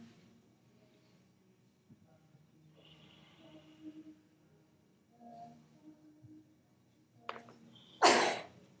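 After a fairly quiet stretch in a restorative yoga class with faint murmurs and rustling, one sharp, loud sneeze bursts out near the end.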